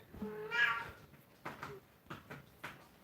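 A pet cat meows repeatedly, several separate calls in an uneven rhythm, close and fairly quiet, with no one talking over them.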